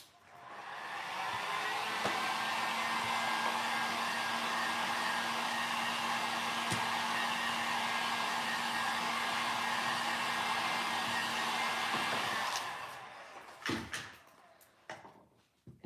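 A hair dryer blows steadily and loudly for about twelve seconds, warming pigments on WoodUbend moulds, then cuts off and gives way to scattered knocks and clatter of items being handled.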